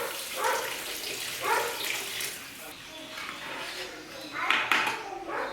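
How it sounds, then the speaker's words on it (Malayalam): Hot water poured into a pot of masala for a large Kerala-style chicken dum biryani, a splashing, pattering flow under continuous talk. "ഇതിലേക്ക് ഇനി ചൂടുവെള്ളം ഒഴിച്ച് കൊടുക്കാം."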